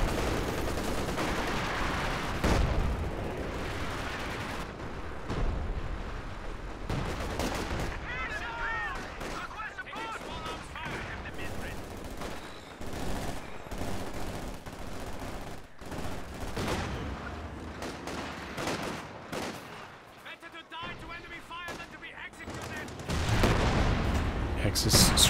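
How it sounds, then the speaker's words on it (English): Propaganda artillery barrage in Company of Heroes 2 during a 3v3 winter howitzer battle: repeated booming shell impacts and gunfire crackle at moderate level, with game voices and commentary talk mixed through. "Propaganda artillery coming in"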